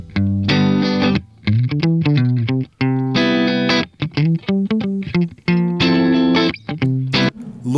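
Electric guitar DI signal run through the Waves GTR amp simulator plugin, a loud distorted tone playing chorded riffs in bursts with sustained ringing chords between quick muted stabs, no voices.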